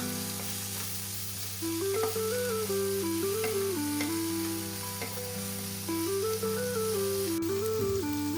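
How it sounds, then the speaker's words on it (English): Peas, corn and thinly sliced capsicum stir-fried on high heat for fried rice, a constant close sizzle with stirring scrapes, under a soft melodic music line. "Stir and cook on high heat for a minute."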